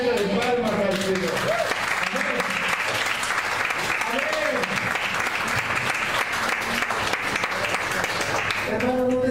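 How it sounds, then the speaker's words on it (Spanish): A church congregation clapping as an offering to the Lord, dense sustained applause from a large crowd lasting the whole stretch, with voices shouting and calling out over it. "Tenemos ofrenda de palmas al Señor."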